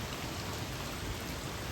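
Heavy, steady downpour during a thunderstorm in Westland, Michigan, with flooded streets, a dense continuous roar of rain close by, unbroken and loud with no voices.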